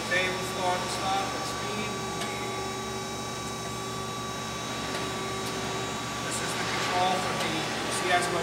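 A Chevalier FSG-2A618 hydraulic surface grinder running with steady table and cross-feed motion, giving a continuous whirring hum with faint rhythmic ticks throughout, fairly close and alone.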